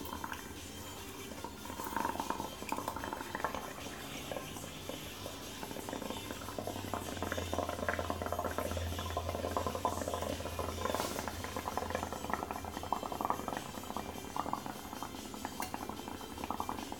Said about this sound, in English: The trick is trying to keep the bubbles on the pot without them falling off